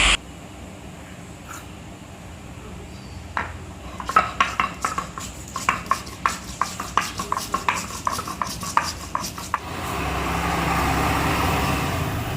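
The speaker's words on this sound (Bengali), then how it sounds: "তো এখন গরম মশলাটা বেটে নিচ্ছি।" Garam masala spices being ground by hand in a home kitchen, a run of sharp, irregular scraping and knocking strokes that speed up and cluster, then give way to a steady broadband rush near the end.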